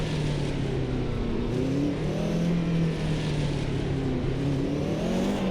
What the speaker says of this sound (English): The basic rev sound seems very high.